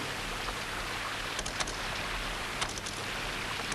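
Water leaks from an indoor ceiling and drips like rain, a steady close patter with a few sharper drops standing out, continuous and moderately loud, with no voices.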